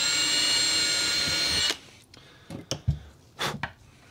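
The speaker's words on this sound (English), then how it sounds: "we're going to be using a very small drill bit" A power drill with a very small bit whirs steadily for under two seconds drilling plywood, then cuts off, followed by a few quiet clicks and handling taps.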